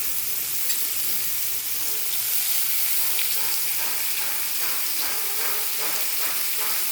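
Onion frying in hot oil with garam masala for a Bengali dish, a steady close sizzle and hiss with soft stirring scrapes repeating through the second half.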